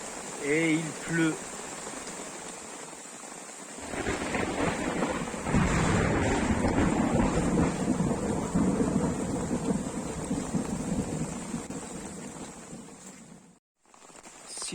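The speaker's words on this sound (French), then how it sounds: "la pluie n'a pas cessé de tomber toute la nuit" Heavy rain pours through the night on a deserted island, with rolling thunder and gusting wind buffeting the microphone; a steady loud roar swells after a quiet start and drops out briefly near the end.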